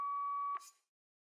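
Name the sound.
phone call ringing tone, from video game Pro Philosopher 2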